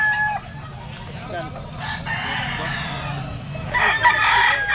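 Yellow-legged stag gamecock crowing nearby, a drawn-out call rising over background chatter and farm noise, with a second burst near the end.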